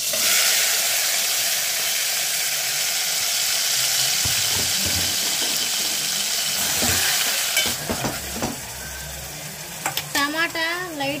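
Chopped tomato and green chilies fry in a hot pan with a loud, steady sizzling hiss that later thins out, broken by a few scrapes and clatters near the end.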